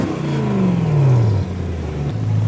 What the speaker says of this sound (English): And with the exhaust closed,